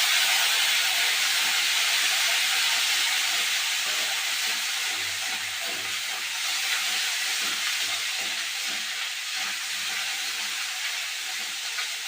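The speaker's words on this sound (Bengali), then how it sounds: "মশলাটাকে ভালো করে কষিয়ে নেব।" Ground spice paste sizzles and hisses steadily in a hot pan as it is fried down for a banana-flower curry, a close, continuous broadband spatter with no talking.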